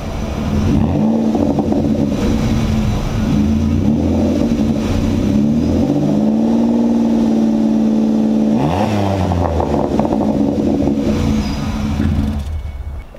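Close, loud idle of a lifted Ford Escape's 3.0 engine, with gentle rev swells and then one sharp climb to about 4,000 RPM late on, settling back before it cuts off.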